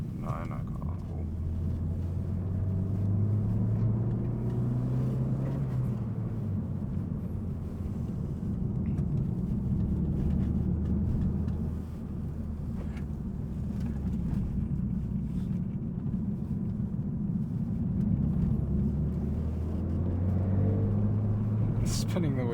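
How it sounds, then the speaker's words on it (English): A Renault Megane RS 265 climbs a twisty mountain pass, its engine drone heard from inside the cabin rising and falling through the gears, with a steady low road rumble beneath. "Even in third, this car tends to spin its wheels."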